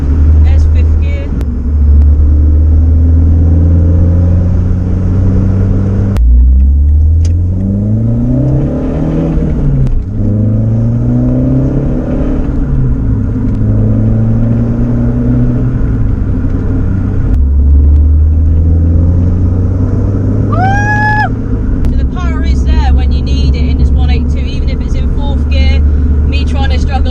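Modified Renault Clio 182 accelerating hard through the gears, engine note rising in repeated sweeps with a sudden drop at each shift, loud from inside the cabin, with a brief squeal late on.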